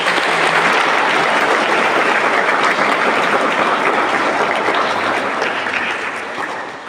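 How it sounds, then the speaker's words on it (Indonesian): Sustained audience applause at a school induction ceremony for new students, a loud, dense wash of many hands clapping continuously before tapering slightly at the end. "Tepuk tangan untuk"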